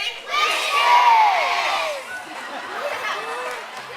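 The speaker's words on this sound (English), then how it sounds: "I want you to yell out whiskers and watch Mavi's face really closely" A zoo seal show audience yells out in unison on a count, a loud burst of mixed adult and children's voices that swells and then trails off into scattered shouts and chatter.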